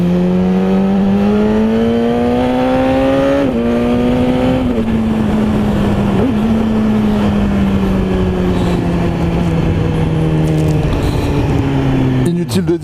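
BMW S1000RR sport motorcycle with aftermarket exhaust, loud and close, engine tone climbing steadily through the revs with quick, clean upshifts at about four and six seconds, then holding a high steady drone before easing off near the end.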